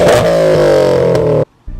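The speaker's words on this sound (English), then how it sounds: "The exhaust sounds great." A Subaru WRX STI exhaust drones loudly at high revs with a rich, throaty tone, holding steady for over a second before cutting off abruptly.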